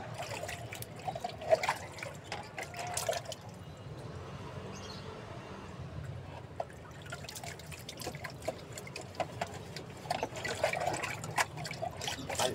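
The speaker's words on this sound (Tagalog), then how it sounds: "Palit ng tubig, kailangan linis ang mabuti yung mga gamit niya." Water trickling and dribbling while being changed in a catfish tank, a soft, continuous flow with occasional drips and splashes, fairly quiet and close with no talking.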